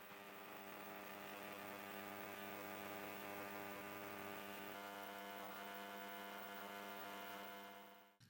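Ultrasonic cleaning bath working polishing paste off a 90-year-old silver Zenith watch case, a steady close electric hum with bright buzzing overtones, continuous and unchanging before cutting off at the end.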